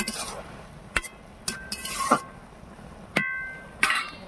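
Metal spoon stirring fish into a pan of taro-leaf curry, giving a few sharp clinks and scrapes against the pan with quiet gaps between them, close and fairly clear with no talking.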